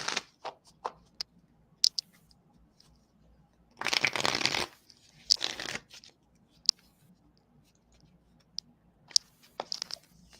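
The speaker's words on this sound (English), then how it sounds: "Shuffle, shuffle," Tarot cards being shuffled by hand in two dense riffling bursts near the middle, surrounded by scattered light taps and card clicks in an otherwise quiet room.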